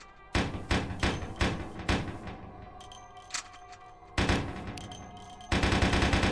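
Uzi fired in single-shot mode in Vampire: The Masquerade - Bloodlines, loud sharp reports in a steady rhythm of about five shots, a pause with lighter clicks, then more bursts.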